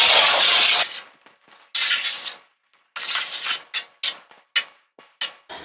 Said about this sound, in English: I'm using organic extra virgin olive oil spray.